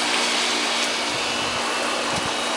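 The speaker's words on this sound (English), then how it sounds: "start up your pump again." An above-ground swimming pool pump running steadily after starting up, with the filter valve set to waste; a continuous close, even whir and hum that holds at the same level throughout.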